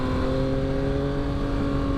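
A 2022 Yamaha XSR900 motorcycle engine drones at steady revs while riding, a close, loud and even tone with wind rush and no speech.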